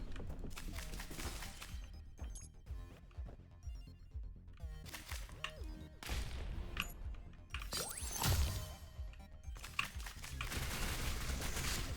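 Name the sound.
gunfire in the video game Neon Abyss 2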